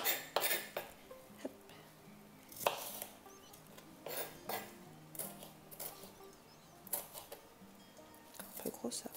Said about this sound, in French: Donc là, je vais couper un morceau de poivron.